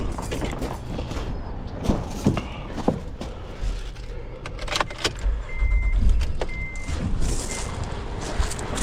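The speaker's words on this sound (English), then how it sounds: "Let's start the car." A 2015 Honda Odyssey with a charging fault has its engine cranked and started in a workshop, with clicks and mechanical clatter before the motor catches and settles into a steady idle.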